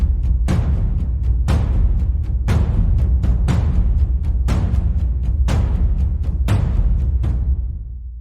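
A drum rhythm with varied hit velocities and an accent on the first hit of each measure. Strong hits recur roughly every second, with softer hits in between, loud and alone, ending with a fade.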